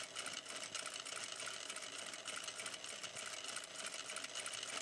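A sewing machine runs quietly and continuously, its rapid needle ticking in a steady rhythm as fabric is stitched, with no voices.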